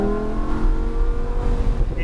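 A Lamborghini Huracan EVO's naturally aspirated engine revs hard and continuously on a racetrack in Palm Beach, close and loud with a dense, roaring drone throughout.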